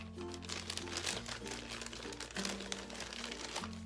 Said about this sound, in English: a little plastic bag of buttons